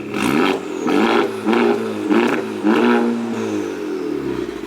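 A Honda Civic Type R FK8 engine, semi-cold, revs in four or five sharp blips, each rising and falling back toward a settling idle, loud and close with no talk over it.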